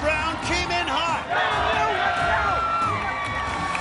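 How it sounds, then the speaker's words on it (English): A hometown crowd at an American Ninja Warrior qualifier in San Antonio roars and cheers continuously, with loud overlapping shouts and whoops filling the space throughout. "This crowd is going nuts."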